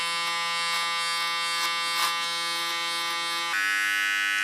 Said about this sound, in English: With my small clipper I clean the line so I can travel to the other side.